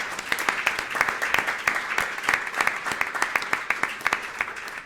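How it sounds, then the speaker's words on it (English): An audience at a conference in Brussels claps to thank the coordination team, with steady, dense applause and many sharp individual claps lasting a few seconds at moderate loudness, with no talk over it. "I would just like you to clap and thank the coordination team and Jacques-Eric for everything."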